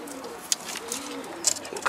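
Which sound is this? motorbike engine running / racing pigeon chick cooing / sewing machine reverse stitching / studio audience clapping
racing pigeon chick cooing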